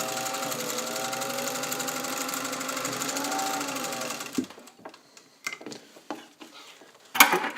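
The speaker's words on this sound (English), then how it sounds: "the machine is just chomping right through it" A restored all-metal Singer 201 sewing machine runs fast and steady for about four seconds, sewing through four dense layers of cargo pant, then stops, followed by scattered handling clicks and knocks; close, no speech.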